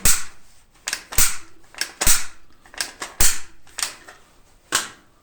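An AK-74 magazine being handled and clicked into place, with a series of sharp metallic clicks and clacks, about eight distinct snaps spaced irregularly, loud and close.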